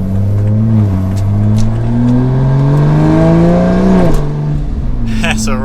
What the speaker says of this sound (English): So right there, getting more into the RPM, you feel that turbo build and build.